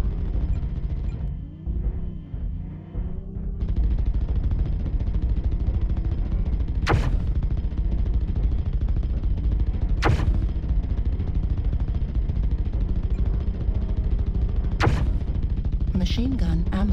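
Rapid machine-gun fire chatters steadily from a mech in the MechWarrior Online video game, loud and dense, with a few sharp heavier impacts cracking through the sustained mechanical din.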